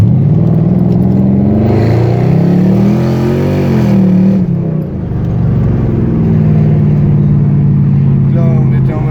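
A Mercedes CLS 500 AMG with a V8 accelerating hard in sport mode, a loud rising engine roar swelling through the gears and then easing off, heard from inside the car with voices talking over it.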